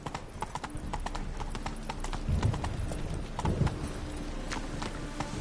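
Horse hooves clip-clop in a steady trotting rhythm in a video game, close and clear over a faint background hum, with a couple of heavier thuds partway through.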